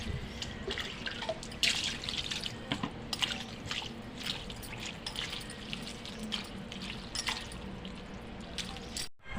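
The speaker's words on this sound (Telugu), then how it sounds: "ఇట్లా కడుక్కొని ఒక జల్లెట్లకి ఎత్తుకోవాలి" Small fish for a curry are rinsed by hand in water, with continuous sloshing, dripping and splashing close by, a few sharper splashes standing out from the steady wet churn.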